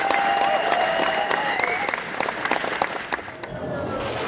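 Audience applause at a comic con panel in Birmingham, a sustained burst of many hands clapping close and loud, thinning slightly toward the end.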